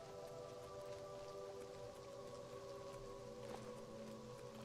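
Video game rain falls steadily outdoors near Coral in a medieval setting, a soft even patter blended with low tonal ambient hum, quiet and unbroken, with no voices.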